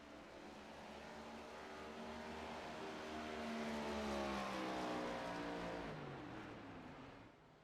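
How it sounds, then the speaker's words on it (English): A race car in the iRacing sim at Homestead-Miami Speedway drones past with a rising then falling engine tone, swelling to its loudest midway and fading as the engine is cut to save fuel, with no talking. "You can hear Johnson shutting off the engine."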